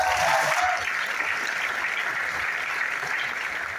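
Audience applause at a network marketing seminar, a dense, steady clapping from a large indoor crowd, loud and sustained for several seconds with no talk over it.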